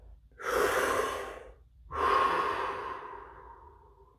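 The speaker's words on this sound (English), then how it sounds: "Deep breath." Two slow, deep breaths taken close up, each a long airy inhale-exhale with a short pause between, alone and moderately loud.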